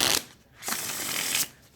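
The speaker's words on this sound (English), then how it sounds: "Oh, that was a bad shuffle right there." Tarot cards from a laminated deck riffled by hand, two close, crisp bursts of rapid flapping separated by a short pause, the second burst longer.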